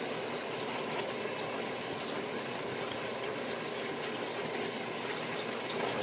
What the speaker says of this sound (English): we're going to take the blowtorch here and heat up the end of this pipe